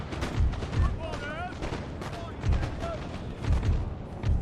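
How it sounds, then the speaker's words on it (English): Cannon and artillery fire on a Napoleon: Total War battlefield, heavy low booms repeating irregularly every second or so, with distant crackling musketry and game voices over the top. "Cannon ready, sir."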